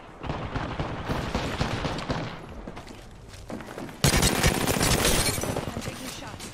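Rapid bursts of automatic gunfire from an Apex Legends style shooter game rattle continuously and loudly, intensifying sharply partway through, with a voice talking over the shots.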